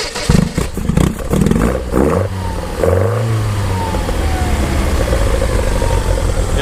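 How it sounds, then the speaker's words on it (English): A 1978 Lotus Eclat Sprint British classic car starting up: the starter cranks, the engine catches with a loud roar and revs, then settles into a steady, close idle. "So we'll go ahead and start it up here so you can hear it run."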